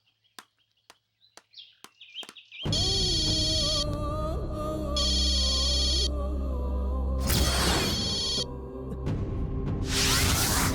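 A telephone rings in repeated electronic bursts against a dense background of music and ambience after a few sparse clicks, with a noisy swell near the end.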